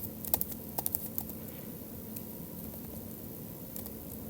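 Soft taps on an iPad's on-screen keyboard while coding in Swift Playgrounds, a few close, light clicks clustered early and again near the end over quiet room hiss.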